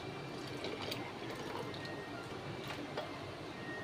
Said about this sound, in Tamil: மிக்சியில் வந்து ஊற வச்ச தண்ணி இருக்குதுல்ல, இதை கொஞ்சம் ஊற்றி கலக்கி ஆட் பண்ணிக்கோங்க.